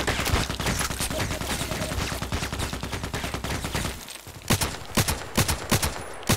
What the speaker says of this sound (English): He's shooting all his ammunition.